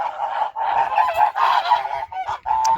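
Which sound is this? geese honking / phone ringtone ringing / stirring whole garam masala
geese honking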